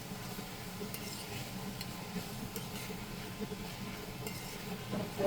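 Salted onion fries in a pan. A soft, steady sizzle runs under quiet stirring scrapes and occasional utensil clinks, all fairly faint.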